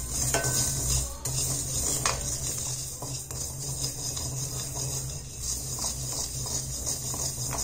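Mustard seeds dry-roasted in a pan until dark, with a soft continuous rattling hiss and scattered metallic clinks of a spoon against the pan, close and fairly quiet, no voices.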